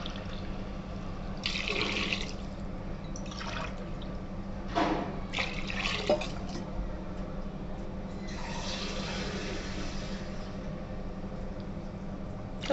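Water pours in several separate bursts into a pot of biryani rice, four glassfuls splashing and gurgling close by over a steady low kitchen hum, with no talk.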